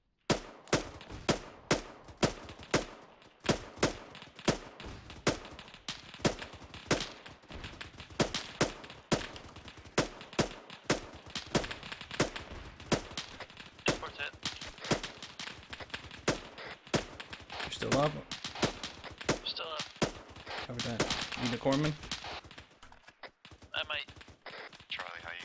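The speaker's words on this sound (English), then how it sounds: "Just open fire on infantry." Repeated gunfire from infantry weapons in the military game Arma 3, sharp shots cracking in a fast irregular series near and far, with players talking over the radio throughout.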